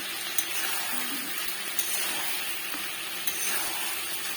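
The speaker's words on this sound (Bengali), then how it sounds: "এখন তো আমি তরকারিটা কষাচ্ছি" A suji kochu curry is sautéed in a pan with a soft continuous sizzle, occasional sharp clinks of stirring standing out above the steady frying.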